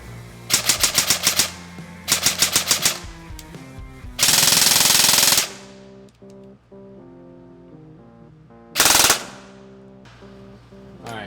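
An airsoft rifle fitted with a high-speed Lonex A3 motor fires in full auto, several short rattling bursts and one longer sustained burst, loud and close, with mechanical clicks between volleys and no talking.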